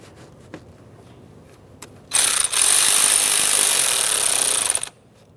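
A power driver buzzes for about three seconds, snugging the intake tube clamp on a 2007-2017 Jeep Patriot 2.4L four-cylinder, after a few faint clicks and taps close by.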